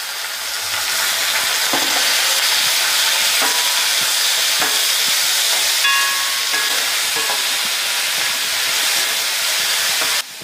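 Sliced onions sauté in a hot pan for an egg curry with garlic and ginger, giving a steady, close sizzle and hiss throughout, broken by faint scraping stirs.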